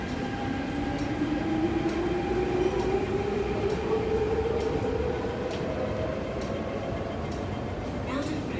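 An MTR train pulls into Tung Chung Station, a loud steady rumble with a rising whine of motors as it arrives, under constant platform noise and a few faint clicks.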